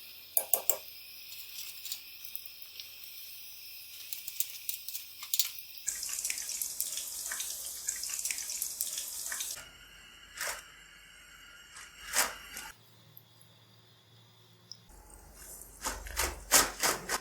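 Potato pakoras deep frying in hot oil, a steady hissing sizzle that shifts and surges in intensity over time, with occasional sharper crackles and no talking.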